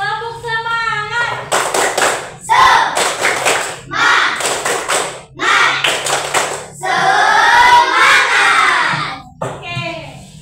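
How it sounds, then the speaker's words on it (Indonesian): Primary school class doing a spirit clap, a burst of rhythmic group clapping in several patterned rounds, loud and close, with children's and a teacher's voices shouting between the clap sequences. "Kita tepuk semangat dulu. Tepuk semangat."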